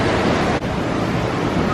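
Ocean waves break on the edge of a rocky reef in a loud, steady roar with wind rush, one brief dip partway through.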